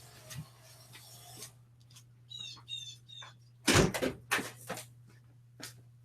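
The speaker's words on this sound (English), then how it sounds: "I'm going to close this door" A door is pushed shut indoors, a rubbing slide followed by a loud thud and a few rattling knocks, with a low steady hum underneath.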